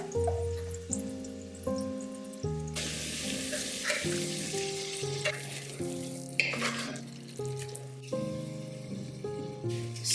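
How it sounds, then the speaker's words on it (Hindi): Onion frying in a pan makes a continuous sizzling hiss with occasional stirring scrapes, heard beneath a steady melodic music track with held tones. "जैसे ही अनियन हल्का सा भून जाएगा ना, फिर ये पेस्ट ऐड कर देना"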